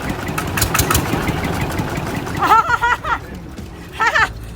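A luxury car's engine idles with a steady, fairly loud rumble that fills the first half, then thins out as voices talk over a quieter background.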